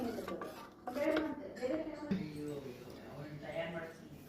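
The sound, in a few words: stirring custard mix into heating milk in a pan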